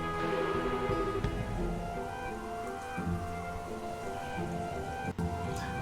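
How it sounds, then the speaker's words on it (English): Rain falls steadily in Trails in the Sky 3rd, a dense even patter over the whole span, layered with soft sustained game music tones and no voices. "You didn't have to come out here in the rain."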